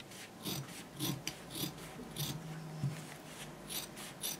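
Scissors trimming excess fabric while making a sewing-project vaccination-card holder bag: soft, rhythmic snipping and rasping at close range, repeated about every half second, quiet with no talking.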